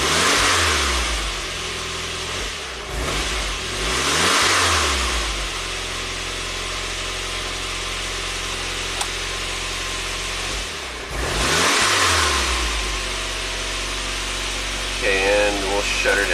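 A 1993 Saab 9000 CSE Turbo engine, running after start with a high idle and slow throttle, roars through a few close revs, then settles into a steady idle hum before another rev, with someone speaking briefly at the end.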